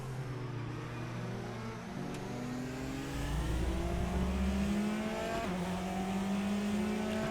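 A Praga R1 race car in the RaceRoom sim, racing in Britcar at the Shanghai GP circuit, holds a steady high engine drone from the cockpit, then drops pitch at a gear change and climbs again under load.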